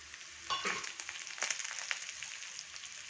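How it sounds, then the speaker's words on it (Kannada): Onions frying in a pan, a soft crackling sizzle with a few brief stirring bursts, heard close and quiet with no talking. "ಇದು ಸ್ವಲ್ಪ ಫ್ರೈ ಆಗಲಿ"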